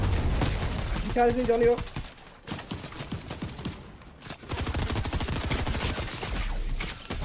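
Repeated bursts of gunfire in Fortnite's Star Wars season, loud and close, firing in rapid volleys with short gaps, while a player speaks over the shooting.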